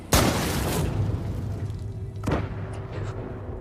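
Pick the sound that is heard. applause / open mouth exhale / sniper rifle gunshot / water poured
sniper rifle gunshot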